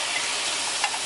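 Shrimp drop into a hot, glazed pan and sizzle with a steady close hiss, with a brief stirring scrape near the end.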